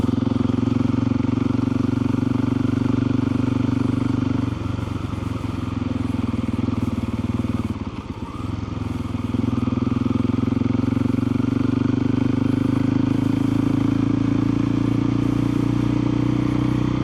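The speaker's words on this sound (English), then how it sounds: "Riding the KTM 500 EXC-F today." A KTM 500 EXC-F motorcycle cruises along country roads, its steady engine drone loud and continuous throughout, with a brief dip and clatter midway before the hum resumes.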